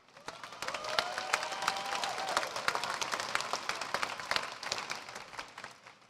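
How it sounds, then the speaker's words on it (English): Applause for a high school chamber choral group at a commencement ceremony, with many hands clapping in a crisp, busy stream that swells quickly and continues steadily, with faint crowd murmur underneath. "if we can give another round of applause to Dina and the Chamber Choral Group from Hazen High School"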